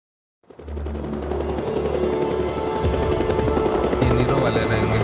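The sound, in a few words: helicopter in the video game Days Gone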